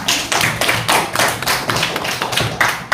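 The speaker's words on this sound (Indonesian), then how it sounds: "Iya, tepuk tangan" Students in a classroom clap in loud, rhythmic unison, about ten evenly spaced claps close to the microphone with no talk over them.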